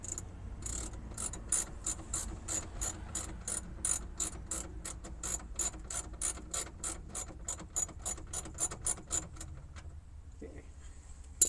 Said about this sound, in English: Just grab this wrench real quick